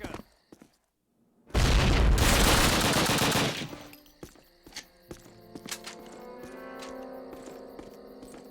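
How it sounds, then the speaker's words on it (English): A grenade blast in the Call of Duty video game: a loud, dense burst of roughly two seconds after a brief silence, followed by scattered thuds and quieter game noise. "there's that grenade."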